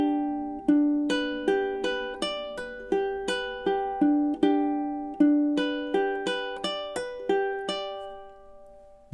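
Solo ukulele plays measures 11 and 12 of a tune, a steady sequence of plucked notes and chords, each ringing and decaying before the next, clear and close with no talking.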